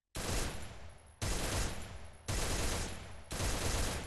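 Free Fire video game gunfire comes as four dense, sustained bursts of rapid automatic shots, each cut off abruptly before the next, loud and close with no talk.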